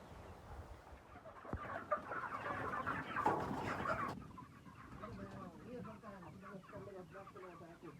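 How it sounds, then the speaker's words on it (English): Chickens and chicks cluck on a farm beside a pig pen, a busy cluster of close, overlapping clucks with the loudest burst mid-clip before the calls grow softer and more scattered. "These are some other chicks."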